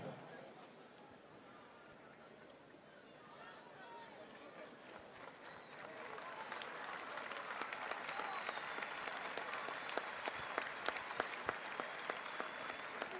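Rugby crowd at an Argentina versus South Africa match applauds a player leaving the field, a broad stadium clapping that swells over several seconds with sharper individual claps, and a commentator speaks over it.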